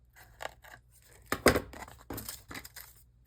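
Scissors trim tissue paper for a craft background, giving several crisp snips and papery crinkles in an irregular rhythm, close and fairly quiet.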